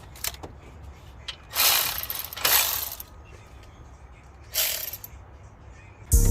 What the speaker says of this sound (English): Now I'm just tightening the bolts.